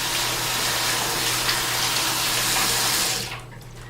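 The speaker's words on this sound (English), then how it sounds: "here is how I was rinsing, right here under the faucet, with just warm, mildly warm water" Warm water runs steadily from a faucet for rinsing, a continuous close splashing stream that cuts off near the end, leaving a quieter room hum.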